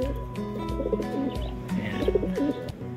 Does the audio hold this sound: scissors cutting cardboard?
no